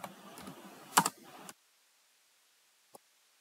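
Close computer keyboard typing, a quick run of soft key clicks with one sharper tap, then silence broken by a single late click.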